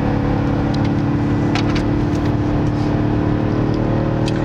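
A BMW X6 M drives on the Circuit of the Americas race track, its engine droning loud and steady from inside the cabin, constant throughout with no talking.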